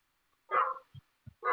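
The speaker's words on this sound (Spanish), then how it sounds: "¿qué raza es tu perrito, Mayra?" A dog gives two short barks at moderate distance, then the start of a third, with soft thumps in the quiet gaps between them.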